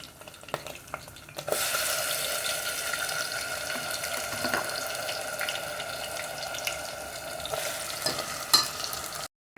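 Ground onion, tomato and coconut masala frying in a pan for mutton palak rassa, a steady close sizzle with stirring scrapes and a few louder clinks, starting abruptly after a quiet second and ending suddenly.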